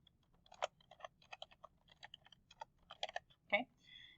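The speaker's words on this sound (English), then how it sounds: "write down exposition, like I'm about to type right here" Fingers type on a computer keyboard in quick, irregular bursts of light clicks, quiet and close, ending with a few firmer key presses.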